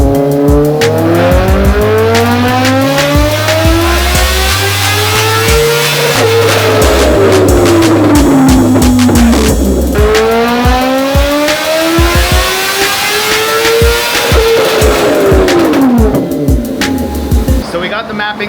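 Kawasaki ZX-10R with SC Projects exhaust and velocity stacks on a dyno, screaming through repeated full-throttle pulls, the engine note climbing and dropping loudly over and over with a harsh, crackling exhaust roar.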